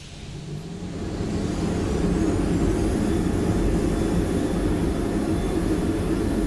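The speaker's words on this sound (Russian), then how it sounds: "Да, какой же живой самолет в эксплейне." A steady, droning airplane engine from the X-Plane flight simulator game swells in the first seconds and then holds a constant, broad rumble with no talk over it.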